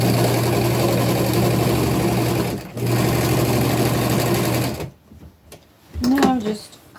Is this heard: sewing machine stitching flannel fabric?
yes